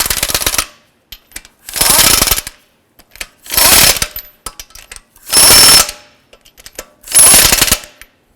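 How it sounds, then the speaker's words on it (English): Five loud bursts of an impact wrench snug up the wheel lug nuts on a 2006-2011 Honda Civic, each rattling burst lasting about a second and separated by short quiet pauses. "I'm going to go ahead and snug up these lug nuts."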